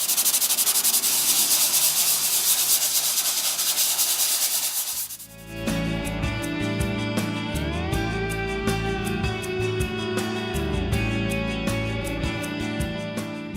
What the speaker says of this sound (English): finishing off with a fine sandpaper number 400 to get the smooth surface we're after.